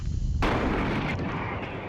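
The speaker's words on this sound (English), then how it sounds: "You can hear in the background some machine gun fire." Gunfire from a Graviteam Tactics battle set in Iran, heard in the background: a couple of seconds of sustained, booming bursts that arrive alone, with no voices.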